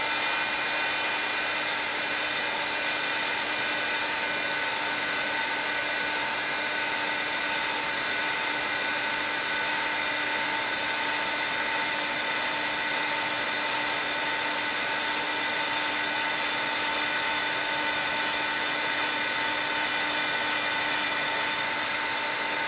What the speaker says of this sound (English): then I'm going to heat it up with the heat gun